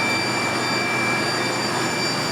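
An electric motor pumps freshly pressed olive oil through a hose to a weighing scale in an olive mill, a steady, loud, continuous drone with a constant hum and no pauses or voices.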